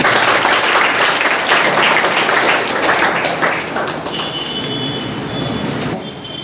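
A crowd claps together in dense, crackling applause that holds strong for a few seconds, then gradually fades and thins out.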